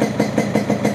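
A 2002 Yamaha RX King two-stroke motorcycle engine idles steadily nearby, a pulsing mid-range hum with a regular throb about five beats per second, with no voices.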